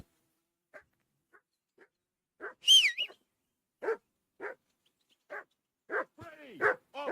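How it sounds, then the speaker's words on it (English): A dog barks inside the game Kingdom Come Deliverance 2, a string of short, separated barks and yips at moderate distance, broken by a brief whistle-like call and some whining toward the end, with no speech over it. "I assume you can hear that damn dog of yours barking."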